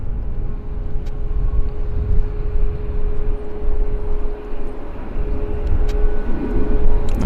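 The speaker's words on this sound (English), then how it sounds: "Nice Air Canada climb out." An Air Canada airliner climbs out after takeoff from Vancouver airport, a broad, steady jet roar heard from a distance that swells slightly toward the end, with no voices over it.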